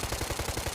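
Malyuk 5.45 bullpup rifle firing a sustained full-auto burst in the video game Squad, a rapid, even string of loud shots with no pauses.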